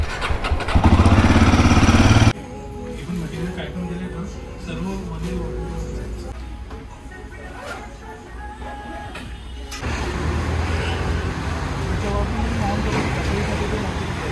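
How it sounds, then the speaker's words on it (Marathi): A motorcycle engine cold-starts with a loud opening burst, then drops to a steadier running drone that continues under voices. "चला कोल स्टार्ट करूयात."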